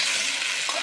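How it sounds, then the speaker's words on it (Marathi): Soya chilli paste being stirred with onion and capsicum in a pan, a soft continuous sizzle with a faint scrape of the spoon, brief and steady. "आता हे पूर्ण घट्ट होईपर्यंत हलवत राहायचं."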